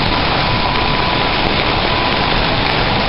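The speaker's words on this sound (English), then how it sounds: "We got frickin' hail coming down." Hail pelting down outdoors in Michigan in May near a lit forge, a loud dense continuous hiss and patter without pause, no talking.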